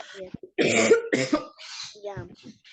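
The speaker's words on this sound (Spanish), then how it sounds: "perdón que estaba con tos." Several harsh coughs burst out close to the microphone, mixed with throat clearing and a bit of breathy vocal noise.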